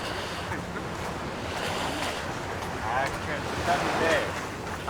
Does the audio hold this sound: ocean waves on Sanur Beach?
yes